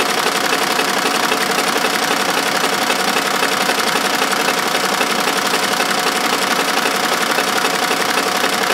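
An embroidery machine with a ballpoint needle and magnetic bobbins stitches a Christmas stocking at about 700 RPM, giving a loud, steady, rapid mechanical whirr and rattle that runs without a break.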